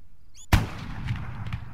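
A single sharp, booming .50 cal rifle shot from the game Arma 3, sudden and loud, then a rumbling tail fading over a second.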